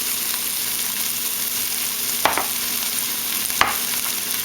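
Onions and greens sauté in a pan while they brown, giving a steady, soft sizzle throughout, with two brief sharp scraping or stirring clicks partway through and no talking.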